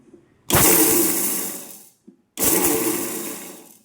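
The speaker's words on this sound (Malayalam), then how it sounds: "വെള്ളത്തിന്റെ അംശം തീരെ ഇല്ലാത്തൊരു മിക്സിയുടെ ജാറിലോട്ടിട്ട് ഒരു 2 അടി ഡ്രു ഡ്രു" A mixer grinder whirs loudly in two short pulses, each about a second and a half, separated by a brief pause with a small clunk.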